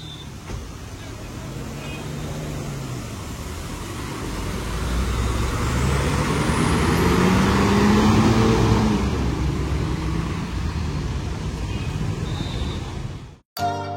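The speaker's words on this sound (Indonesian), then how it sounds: "RM280 Jakarta Denpasar lagi mundur untuk kembali ke garasi Tabanan teman-teman" A Gunung Harta Hino RM 280 bus on the Jakarta–Denpasar route reverses toward its Tabanan garage, its steady engine drone building to a loud sustained rumble before cutting off abruptly near the end.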